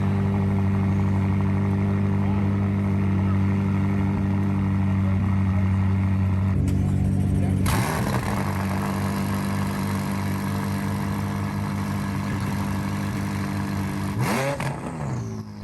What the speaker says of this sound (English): I got to listen to some pretty cool cold starts